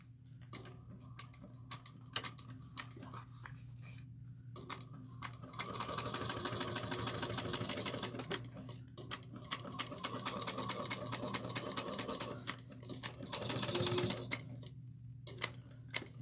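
A sewing machine stitches a tote bag seam at three-eighths of an inch in steady rapid bursts, stopping and restarting several times, with a longer continuous run near the middle, close and moderately loud with no talking.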